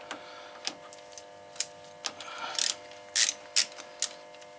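A ratchet wrench with a 14mm socket clicks on a brake caliper bolt of a 2001-2005 Toyota RAV4, close up, with irregular bursts of fast pawl clicks and a few single ticks.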